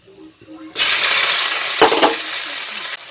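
Vegetables hitting a hot pan with a sudden loud sizzle that stays steady and close, preceded by quiet clinks, with a brief stirring clatter midway.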